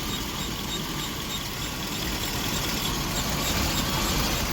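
A 1988 Winnebago Superchief motorhome's GM engine idles steadily nearby, a constant rumble with a faint high whistle or whine running over it throughout.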